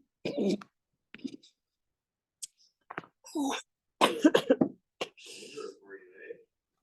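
Several bursts of coughing, harsh and close, separated by short pauses, with a few breathy gasps between fits.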